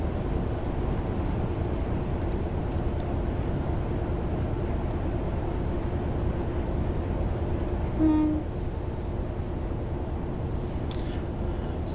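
A Voyager train in the Train Sim World game rolls along with a steady, loud rumble and a continuous wheel-on-rail drone, briefly topped by a short tonal sound near the end.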